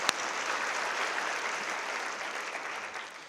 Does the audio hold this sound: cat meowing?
no